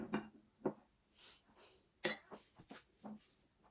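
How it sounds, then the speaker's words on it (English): Meatball mixture being mixed in a bowl for Haitian meatballs, with cooked potato to follow: clinks and scrapes of a utensil against the bowl come in scattered bursts, close and fairly quiet, with no talk. "We're gonna give it another mix."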